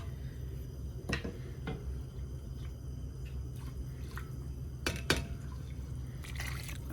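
Juice pours into a soup pot of albondigas soup, soft liquid trickles and drips with a few sharper splashes and clinks over steady low background noise.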